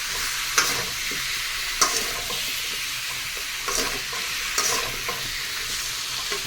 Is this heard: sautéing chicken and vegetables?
yes